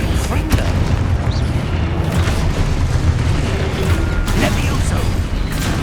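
Confringo blasting spells explode in Hogwarts Legacy combat, with repeated booms and bursts in loud, busy fighting while voices call out.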